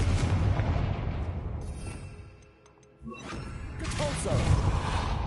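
A Confringo fire spell bursts in Hogwarts Legacy, a loud booming blast with mechanical crackle that drops to near quiet before a second burst of rumbling impact returns.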